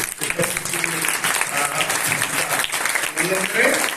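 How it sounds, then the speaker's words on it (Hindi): Loud audience applause at a women's day honour ceremony, steady and sustained through the whole stretch, with talk or voices mixed in beneath the clapping. "एक बार मैं निवेदन करूंगा जोरदार ताली से।"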